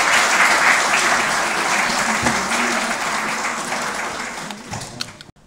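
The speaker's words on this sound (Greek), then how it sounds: "Ας καλωσορίσουμε λοιπόν με θερμό χειροκρότημα" Warm audience applause welcoming a speaker at a talk on anger at home and school, dense steady clapping from a full room that gradually thins and dies away near the end.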